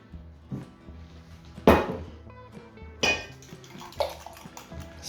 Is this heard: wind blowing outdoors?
no